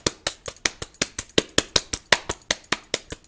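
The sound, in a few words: hand clapping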